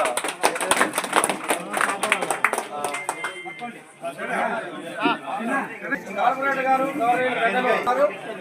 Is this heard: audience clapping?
yes